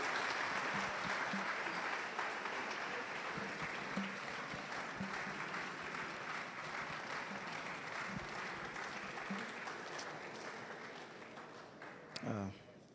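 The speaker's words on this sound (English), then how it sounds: "let's invite Ibrahim Mahama with a round of applause" A long, steady round of audience applause welcoming a guest speaker to an evening lecture at a university in Ghana, a large crowd clapping continuously and gradually tapering, with a brief voice near the end.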